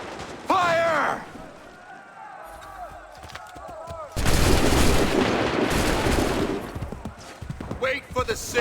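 Musket volleys ring out in Assassin's Creed III, a massed crack of gunfire that bursts loud and sustained with rolling echoes, followed by scattered shots, with shouted voices in the earlier stretch.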